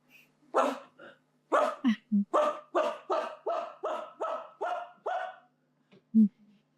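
A human voice imitates an aggressive, snarling dog, giving about ten rhythmic gruff barks in quick succession, close and loud, with a couple of short breathy sounds around them.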